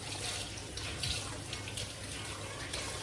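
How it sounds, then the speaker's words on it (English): Beans pour into a pan of onions already seasoned with black pepper and all-purpose seasoning, making a steady, wet, hissing slosh for about three seconds. The sound is moderately loud and continuous, and no one speaks. "Now I'm going to start pouring my beans in here with my onions."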